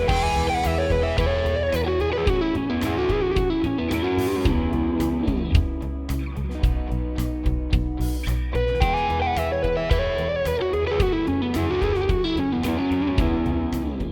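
An electric guitar plays a lick built on double stops and slides. The tone is distorted and chorus-laden and fills the whole stretch continuously at close range.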